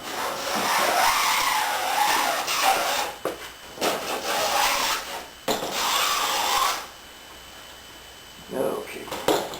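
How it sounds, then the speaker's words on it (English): Sandpaper rubs back and forth along plywood edges in long, loud, scratchy strokes with brief pauses between passes, heard close up. "if you're sanding along these edges"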